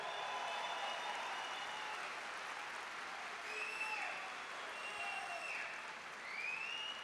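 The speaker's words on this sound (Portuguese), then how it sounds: "primeiro ao professor Olavo de Carvalho, aqui uma salva de palmas ao nosso grande mestre." A large crowd applauds in a sustained, dense wave of clapping that lasts the whole stretch, with faint cheers rising above it.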